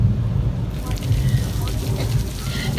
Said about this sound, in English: Once you have thunder and lightning, then you can start up your rain.